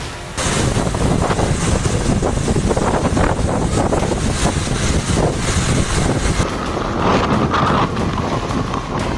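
Strong tornado wind in Bekasi roars and buffets hard against the microphone, a loud, continuous, rumbling gust with no speech heard.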